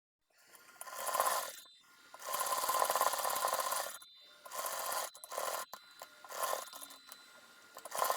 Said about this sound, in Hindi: अब लेस के साथ साथ हमने सिलाई लगानी है।